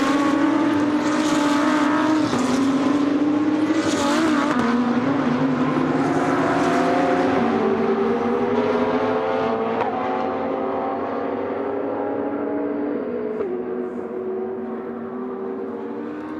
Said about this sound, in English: So the cars climb up towards the turn 3 right-hander.